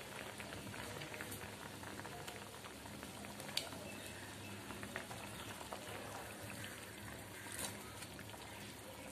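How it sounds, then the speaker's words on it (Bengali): Bengali fish curry broth with pabda fish bubbles steadily in a pan, a continuous soft simmering crackle with occasional sharper pops, fairly faint and close. "ঝোলটা ফুটে গেছে, এবার ভাজা মাছগুলো দিয়ে দেব।"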